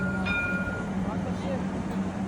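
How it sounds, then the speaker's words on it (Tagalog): Jerusalem Light Rail line 1 train heard briefly on a street, with a steady low rolling hum and a thin high tone fading in the first second, under outdoor background noise. "So, ito na yung train ng line 1."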